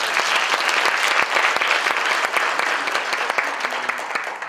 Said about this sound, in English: Can we give our speakers one more applause?